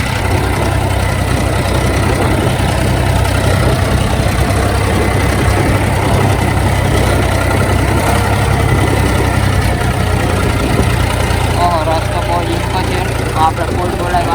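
A tractor engine runs steadily with a deep, continuous drone while the machine is stuck in knee-deep mud on a field track, fitted with doubled, wide tyres.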